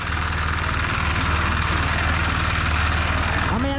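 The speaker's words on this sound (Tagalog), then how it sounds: "Maingay pa yung makina." A machine engine runs noisily and continuously, a loud low throbbing drone with a steady pulsing rhythm that persists unchanged for nearly four seconds, with no one speaking over it.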